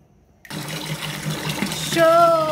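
Water runs steadily from a newly installed faucet replacing a broken one, beside a wall-mounted spot for a washing machine hose, a close, continuous splash that swells and brightens near the end.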